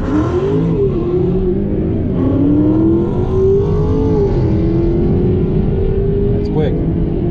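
A 2019 Dodge Charger Scat Pack with a 6.4 Hemi V8 accelerating hard, its deep engine note climbing steadily through the revs for several seconds, loud and close.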